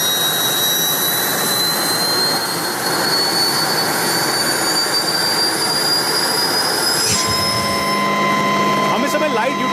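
Inside the cabin of a HAL Light Utility Helicopter in flight, a loud, steady turbine whine and rotor roar run without a break, with high tones drifting upward and voices faintly present under the din.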